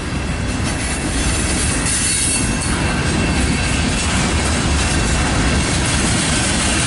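An eastbound CN manifest freight train rolls steadily past close by in Battle Creek, Michigan, with continuous rumbling wheels, rattling cars and faint metallic squeals.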